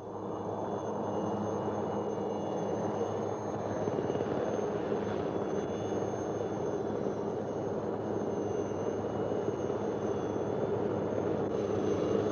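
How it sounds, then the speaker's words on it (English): A military helicopter flying out to resupply a jungle patrol during the 1963–1966 Indonesia-Malaysia confrontation, heard as a steady, unbroken engine and rotor drone at moderate distance, with no voices over it. "The balloon, released by the men below, gives their exact position to the helicopter, which has flown out to resupply them."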